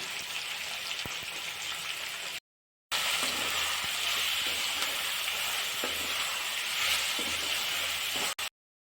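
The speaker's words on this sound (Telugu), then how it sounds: "ఆనియన్స్ అయితే బాగా మగ్గుతున్నాయి చూడండి." Sliced onions fry in hot oil with turmeric in a pan while making mango rice, giving a steady, loud, close-up sizzle that cuts out briefly twice, with no talking.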